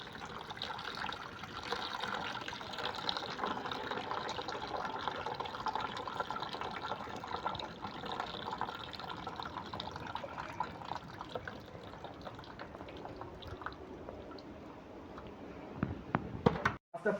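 Water mixed with oil is poured steadily into a cooking pot for coconut rice, a continuous close trickle and splash lasting many seconds, fading with a few clinks near the end.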